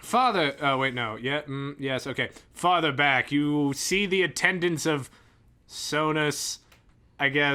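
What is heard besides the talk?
No everyday noise stands out behind the speech.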